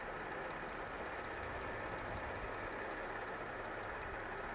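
A Holden VZ Adventra engine idles freshly after an oil change, a steady low even hum with no change in rhythm and no voices over it.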